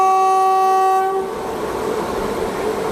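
A train on the Asarva to Udaipur line sounds a long, steady horn at a station, then the horn cuts off and a broad rumble of cars rolling past continues, close and loud.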